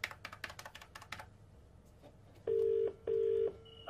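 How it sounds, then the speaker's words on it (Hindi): Quick tapping of phone keys, then two long electronic dial tones sound in succession, clear and close. "फोन मिलाओ"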